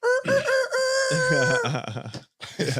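A rooster crows in the morning, close and loud, with a long drawn-out call followed by some rougher, broken trailing notes.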